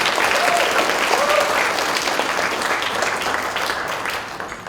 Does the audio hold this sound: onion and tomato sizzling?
no